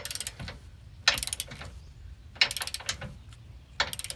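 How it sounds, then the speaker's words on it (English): Impact gun snugging the mounting bolts of a frame-mounted truck camper tie-down, heard as three short, rattling, ratcheting bursts separated by quiet gaps, close but fairly soft. "snug them with the impact gun"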